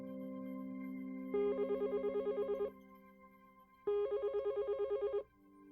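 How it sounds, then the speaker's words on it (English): An emergency telephone line rings in two trilling bursts separated by a short pause, clear and alone over a low steady hum. "the emergency line rings for the first and only time"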